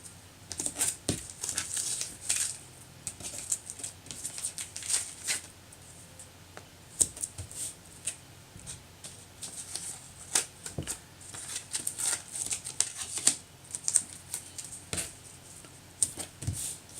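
Delicate painter's tape is peeled from watercolor paper in a run of quick, crisp crackling rips and papery crinkles, close up and fairly quiet, repeated in bursts with short pauses.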